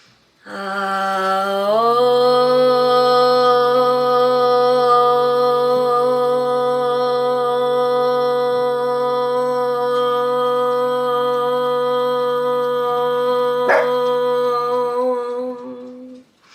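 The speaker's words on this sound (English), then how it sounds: "The sound of Om is the vibration which connects all of us" Several voices hold a long, sustained Om chant together in a yoga session, a rich steady drone that swells in and fades out.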